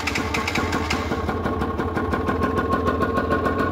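A newly acquired engine idles steadily just after its first start, a loud, continuous rhythmic chugging with fast regular pulses and no talking.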